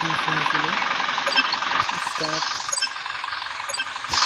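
A truck engine in the Truck Simulator video game drones steadily while the vehicle climbs a hill, a continuous rumbling hum with faint clanks throughout and a knock near the end.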